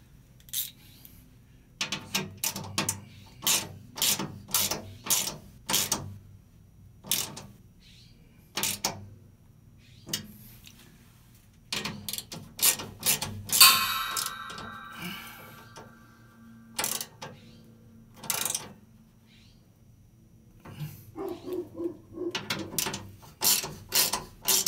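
A ratchet wrench clicks in repeated rapid bursts while tightening a Mazda Miata underbody cover, close and crisp, with short pauses between strokes and a brief metallic ring partway through.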